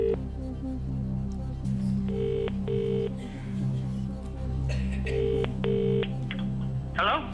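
Touch-tone keypad beeps dial a call on a quiz show, two clusters of short tones separated by a pause, over a steady studio hum and low background voices.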